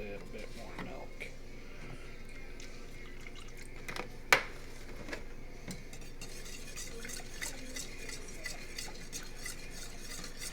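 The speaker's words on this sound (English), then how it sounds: "We're just going to keep whisking because I can still see lumps in the cheese sauce here" A whisk stirs lumpy cheese sauce for bacon mac and cheese in a pot, giving faint, soft scraping and liquid swirling with one sharp clink. A person talks over it.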